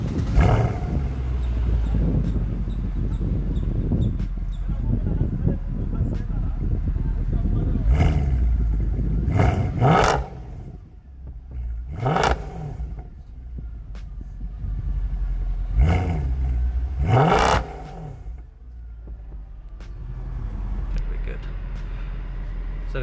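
A 2012 Mercedes C63 AMG (W204) with a 6.3-litre V8 idles with a deep rumble, then revs sharply several times, each rev a quick rising roar that drops back to idle.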